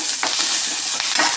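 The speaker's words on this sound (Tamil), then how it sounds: "கருவேப்பிலை நல்லா வதங்கிச்சுங்க" Curry leaves sautéing in hot oil in a pan over low heat, a steady close sizzle broken by a few quick scraping stirs of the spoon, with no voices.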